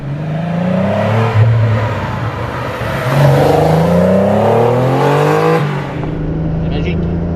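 Porsche 930 Turbo with Kremer tuning accelerating hard, its engine note climbing through rising harmonics, easing briefly, then pulling strongly again before dropping away near the end; loud, close and continuous.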